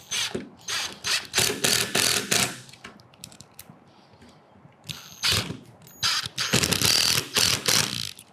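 Two large tapered-head screws driven in during an equipment installation, heard as bursts of rapid ratcheting, clicking mechanical noise, close and loud, in runs of a few seconds separated by a quieter pause.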